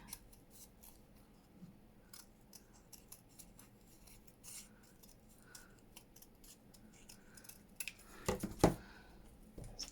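Scissors snip around small fabric snippets for a textile embellishment project, making quiet, close, intermittent cuts with a louder cluster of crisp snips near the end, with no talking.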